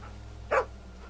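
Sam the dog in The Walking Dead game gives a single short whimpering yelp, brief and fairly close, standing out alone against a quiet hum.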